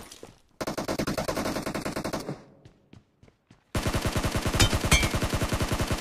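Bursts of rapid automatic gunfire in the BGMI (PUBG) battle royale game: one sustained burst, a short pause with scattered shots, then another loud, fast burst close up.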